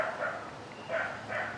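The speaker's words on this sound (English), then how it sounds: "There's some dogs barking over there." Dogs bark a short distance away, three separate barking bursts at steady spacing, moderately loud and without talk.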